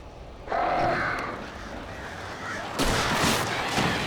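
Crows in the video game Alan Wake Remastered, harsh flapping and cawing bursts rising out of a dark rumbling ambience, one near surge early and a louder noisy flurry later, with no speech.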